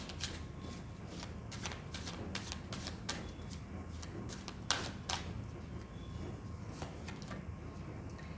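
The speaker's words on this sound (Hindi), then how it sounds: "जब तक मैं कार्ड शफल कर रही हूँ" A deck of tarot cards is shuffled by hand in a quiet room, giving a long run of soft, crisp riffling taps and slaps at an irregular pace, close to the microphone.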